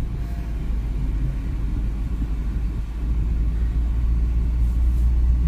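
Car engine idling and running steadily while a first-time driver sits at the wheel, a low constant rumble heard from inside the cabin that grows slightly louder partway through, with no talk.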